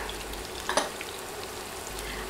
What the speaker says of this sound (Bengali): নেড়ে বাটা মশলাগুলো কয়েক সেকেন্ড ভেজে নিব।